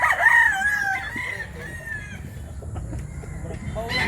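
A large rooster in Mantalungon, Barili, Cebu crows loudly and close at the start, its call trailing off into softer clucks against faint farmyard background.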